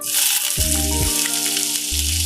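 Onions hit a hot pan and sizzle steadily while cooking for a savory vegetable semolina breakfast porridge, a loud continuous frying hiss with a few faint clinks, no voices.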